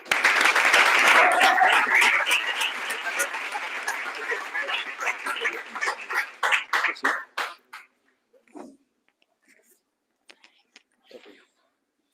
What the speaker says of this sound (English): Huge clap.